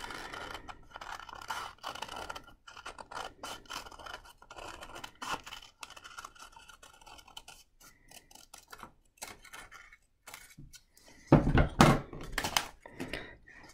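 Scissors snip through folded cardboard along traced template lines, a steady run of close, crisp cuts and scratchy paper crunches, growing louder and denser near the end with a few thunks.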